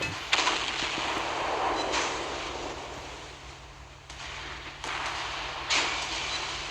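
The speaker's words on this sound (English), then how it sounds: "Our secondaries are going to open up on the Arethusa." Secondary guns of the battlecruiser Repulse firing during a naval battle in the video game Naval Creed, a series of sharp booming shots spaced a second or so apart over a steady low rumble of engines and sea.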